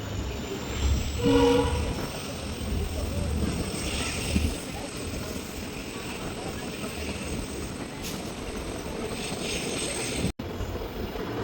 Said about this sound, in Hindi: अब सीलेमान रेलवे स्टेशन से अपना डिपार्चर हो रहा है।